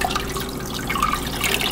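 Water runs and trickles steadily into a filter cartridge to prime it, a continuous splashing flow with a few bright drips, close and fairly loud.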